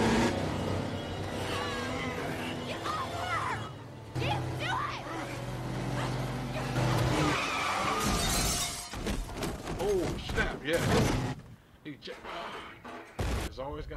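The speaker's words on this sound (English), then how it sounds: "There's always got to be a car turning over somewhere" A car crashes and rolls over in the movie Legion, a burst of shattering glass and heavy impacts amid tense, loud action, followed by scattered crunching and debris settling as the noise thins out.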